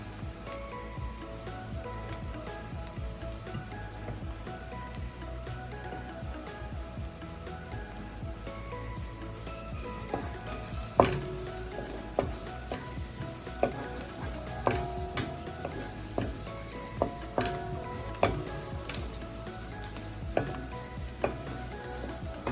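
Garlic added to translucent onions frying in oil for curry crab, a continuous close sizzle with repeated sharp scrapes and clinks of stirring.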